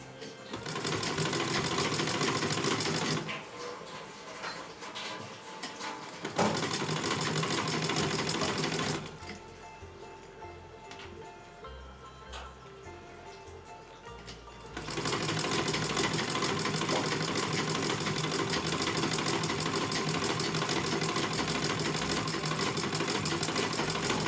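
A sewing machine stitches a folded seam on a small Laddu Gopal dress, running in steady loud bursts broken by short pauses and a quieter slow stretch before it speeds up again.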